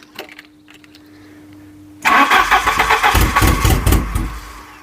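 After a quiet hum, a scrapyard Volvo 740 engine cranks and catches abruptly, then runs loudly with a rough, pulsing idle close by.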